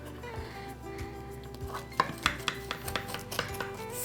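Knife cutting through still-warm chewy pecan squares in a baking pan, a series of close, sharp taps and scrapes against the pan bottom, growing more frequent in the second half, with no talking.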